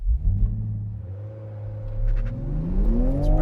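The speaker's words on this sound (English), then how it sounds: "The final thing for me to do in this new Supra is to set a standing quarter mile launch time" A 2020 Toyota Supra launches from a standstill for a standing quarter-mile run, its engine roaring as revs climb steadily through a gear with deep rumble, close and loud, without talk.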